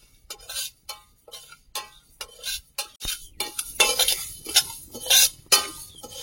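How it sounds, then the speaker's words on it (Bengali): Moong dal is stirred as it dry-fries in a hot iron wok, giving a steady rhythm of sharp scrapes and metallic clinks of about two strokes per second, close and alone. "মুগ ডালটা ভেজে নেব। লোহার কড়া, সঙ্গে সঙ্গে নাড়তে হবে, খুব তাড়াতাড়ি গরম হয়।"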